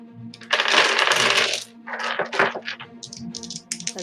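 Dice dropped onto a table during a tabletop role-playing game, giving a rattling clatter followed by several shorter bouncing clicks and rolls, close and alone.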